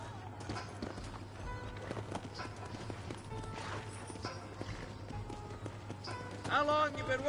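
A paint horse runs in Red Dead Redemption, its hooves pattering rhythmically under game ambience, ending with a louder burst of sound.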